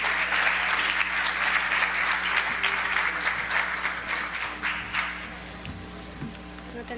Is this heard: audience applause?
yes